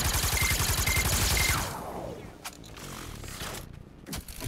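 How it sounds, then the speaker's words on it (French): A laser weapon fires in the video game Fortnite as a rapid, loud stream of buzzing pulses that cuts off after about a second and a half, leaving a fading whoosh and scattered softer game noises. "Et celle-là qui tire des rayons laser chelous"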